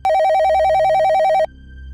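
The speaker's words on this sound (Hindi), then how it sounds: "तभी फोन की घंटी बजी।" A telephone rings in an office, a single bright electronic warble trilling rapidly for about a second and a half before cutting off, loud and close with no talk.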